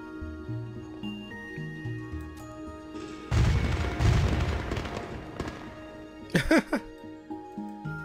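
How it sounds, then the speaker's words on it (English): Fireworks bursting in the game Tokyo Afterschool Summoners, a few seconds of loud crackling booms and a sharp whistling burst, heard over soft background music. "Wait, is someone setting off fireworks?"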